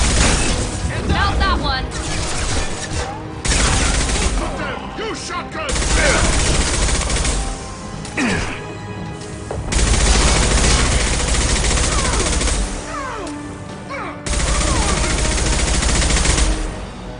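Shotgun blasts and other gunfire sound in Mass Effect 2, a sci-fi shooter, arriving as loud, dense volleys in bursts over several seconds, with speech mixed in.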